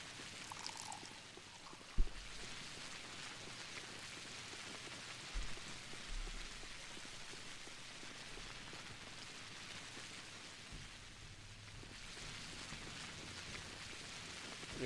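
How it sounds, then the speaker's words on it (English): Steady rain pours down in the video game Pathologic, a soft continuous wash of falling water that runs unbroken for the whole stretch, with a few brief low thumps scattered through it. "It sure has been raining a lot here."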